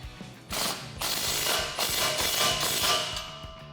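A ratchet wrench with a 16mm socket tightens an exhaust clamp on a 2009-2018 RAM 1500 5.7L dual exhaust, giving a close, continuous run of rapid metallic clicking with brief pauses between strokes, no talking.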